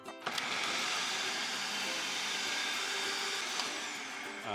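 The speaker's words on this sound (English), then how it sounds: "we're going to take our onions and we're going to puree these very well in" An electric food processor purees chopped onion with a steady, loud, continuous motor whir and blade churn, running alone without pause for several seconds.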